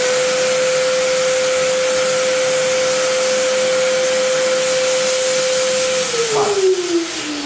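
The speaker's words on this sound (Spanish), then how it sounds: "cuando encendemos Majesty, si no la apretamos sale aire y si la apretamos va a tirar esa espuma" A Majestic dry carpet-cleaning machine blowing air and foam over a rug, a loud steady whine holding one pitch before sliding downward near the end.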